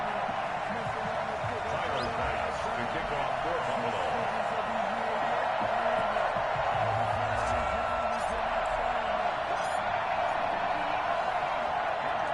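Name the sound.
NFL stadium crowd cheering, Bills vs Patriots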